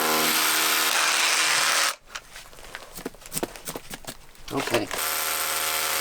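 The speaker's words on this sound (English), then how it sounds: "we're going to use this impact drill to drill down through this" A loud grinding impact drill bores into granite bedrock, stops for a few seconds of clattering, then starts grinding again.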